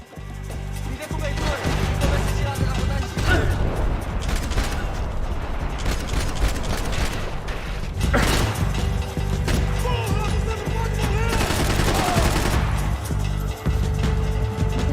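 Max Payne 3 gunfight with dense bursts of gunshots and crashing impacts layered over game music, loud and continuous, with a voice talking over the action.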